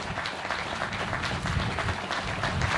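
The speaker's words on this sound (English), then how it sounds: "How about a hand of applause?" A crowd applauds at the commissioning ceremony of the amphibious warship USS Richard M. McCool Jr. The clapping is steady and continuous, fairly distant and even, with no voices over it.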